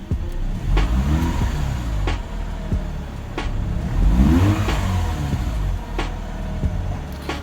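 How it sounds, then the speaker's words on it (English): Mazda RX-8 R3 rotary engine with a stock intake, high-mileage at 131K miles, revved repeatedly in loud, close pulls that climb quickly and fall back, several rises and drops over a steady idle. "let's rev it up a little and see how it climbs RPM"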